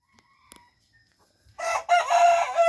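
Black-tailed Pradu Hang Dam chickens, roosters among them, set off a loud, drawn-out crow after a quiet opening with a few faint clucks and knocks.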